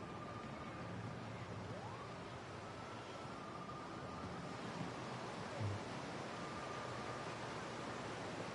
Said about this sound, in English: Oh, nice waterfall.